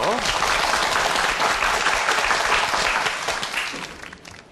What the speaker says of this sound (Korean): 박수로 청해보겠습니다